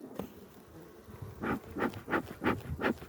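Honey bees buzz at a beehive, a steady drone swelling into several closely spaced louder pulses as insects pass near, with a faint, thin background hum.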